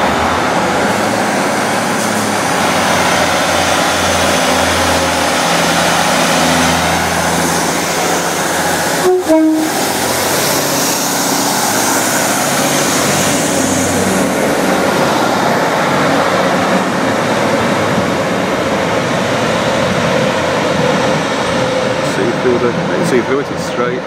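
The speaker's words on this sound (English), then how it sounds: "we'll just see the train go" A train rumbles steadily and continuously while departing Matlock Bath station, with a brief horn or squeal partway through and faint voices in the background.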